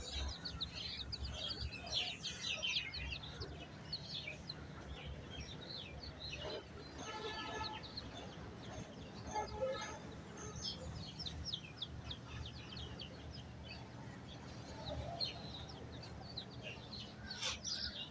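Chickens, including tiger and turkey hens, cluck and chicks cheep steadily in the background, with faint voices now and then underneath.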